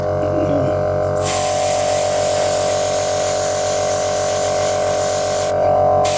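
An airbrush sprays paint to weather model Presflo wagons, a steady continuous hiss with a faint hum running the whole time, close and even in level, with no voices.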